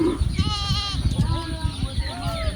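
Sheep bleating on a riverside char farm among cattle, several wavering bleats overlapping near the listener, with a voice speaking over the flock.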